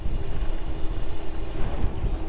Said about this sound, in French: Faudra compter aussi le fait qu'il y a pas mal de vent, en fait.